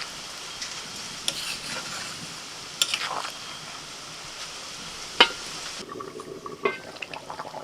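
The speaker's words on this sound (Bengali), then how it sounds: "চিংড়ি মাছ আর পটল দিয়ে দিচ্ছি।" Shrimp and pointed gourd fry in a pan, stirred now and then: a close, steady sizzle broken by scraping strokes and a few sharper knocks.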